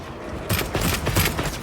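A burst of rapid gunfire in Monster Hunter Wilds, loud and dense, kicking in after a brief quieter moment and rattling on in quick repeated shots.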